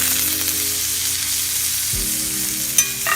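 Venison backstrap sizzles steadily in a hot pan, a dense continuous frying hiss with a brief low thump partway through as the meat is flipped.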